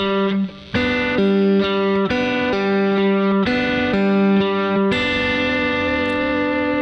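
An electric guitar with effects plays a short country chicken-pickin' lick of double-stop pull-offs, paired notes that ring and sustain, clear and up front with no talking.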